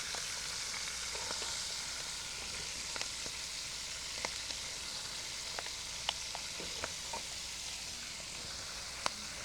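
Cabbage sizzles steadily in a hot pan with onions, a constant bright frying hiss broken by small pops and crackles, heard up close with no talking.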